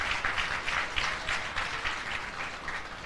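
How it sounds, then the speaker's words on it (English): Audience applause at an NSF live event, a steady wash of clapping with a rhythmic pulse, moderately loud, alone without talk, sustained throughout. "I think it's worth an applause."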